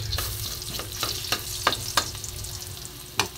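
Chopped onions fry in a pan, with a steady sizzle under a series of sharp spatula scrapes and taps against the pan, close and clear.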